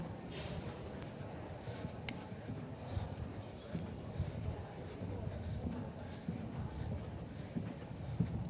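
Horse hooves clop steadily on the footing of a dressage arena during a young-horse final, faint and continuous under someone talking in Dutch.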